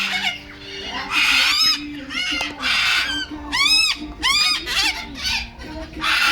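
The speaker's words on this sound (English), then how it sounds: "they're just busy bringing out the big house of cockatoos." Cockatoos at a bird sanctuary squawk loudly in repeated harsh bursts, close by, with a few brief voices in between.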